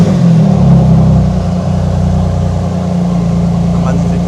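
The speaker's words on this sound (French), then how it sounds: "ça c'est le bruit du moteur Porsche" Porsche engine running with a steady low rumble and a brief rise in revs early on, then holding at a constant drone; voices are present over it.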